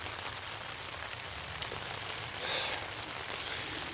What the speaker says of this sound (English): it's raining relatively heavily now